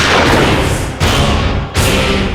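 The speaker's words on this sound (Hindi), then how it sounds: "आसपास गोली चली है, आवाज लगता है उद्देश्य से आई है।" Three loud, sharp bangs in quick succession, each a booming crack over a dense, noisy background with no talk.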